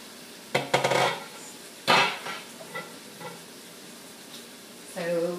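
Tilapia and sauteed cabbage cooking in a pan, with sharp scraping stirs and utensil clatter in separate bursts over a faint background sizzle.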